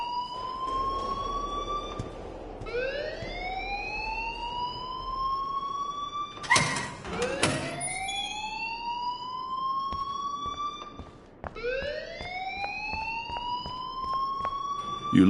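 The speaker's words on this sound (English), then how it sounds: "please turn off that alarm since that's your job" A school alarm in the Life is Strange game wails in repeated rising siren sweeps, loud and insistent, with a brief burst of clatter in the middle and no talking.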